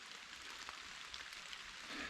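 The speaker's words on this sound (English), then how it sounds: "it started raining and it hasn't really let up yet" Steady rain falls in Pennsylvania mountain woods during an archery deer hunt, a soft continuous patter with scattered drop ticks. It sounds faint and even, with no talk.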